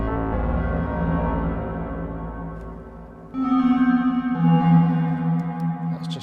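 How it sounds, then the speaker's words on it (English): Dreadbox Typhon synthesizer with reverb, held tones ringing out and fading, then a brighter chord entering with a lush reverb tail, clean and close with no talking. "the reverb is actually pretty nice"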